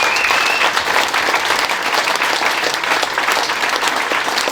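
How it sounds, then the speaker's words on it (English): Audience applause at an evening event with a football club manager, a loud, dense and steady wash of clapping from a large room that continues throughout. "a massive round of applause for all the guys"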